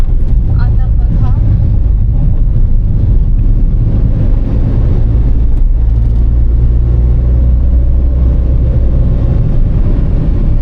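A car drives along a quiet mountain ghat road on the Kashedi Ghat stretch of the NH66 Mumbai–Goa highway. It gives a steady, close low engine and road rumble with wind buffeting throughout, and no talk.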